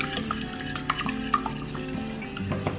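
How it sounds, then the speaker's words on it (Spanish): Two eggs whisked by hand in a tray for date cupcake batter, a close, continuous clatter of utensil against the tray with small clicks, steady and alone without speech. "Aquí en esta bandeja agregamos los 2 huevos. Vamos a darles una batidita."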